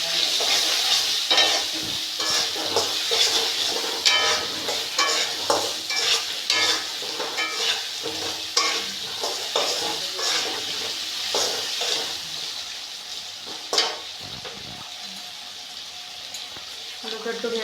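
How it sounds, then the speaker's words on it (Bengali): Spices with salt and turmeric frying in a pan for a Bengali tangra fish curry, with a steady sizzle and repeated scraping stir strokes running throughout, close and moderately loud. "একটু ভাজা ভাজা হোক,"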